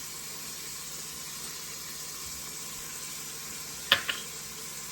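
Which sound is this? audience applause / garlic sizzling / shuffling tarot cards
garlic sizzling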